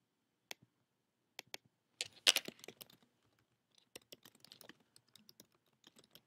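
Typing on a computer keyboard, scattered close key clicks with short pauses, a quick cluster of taps in the middle and lighter sporadic presses toward the end, in an otherwise quiet room.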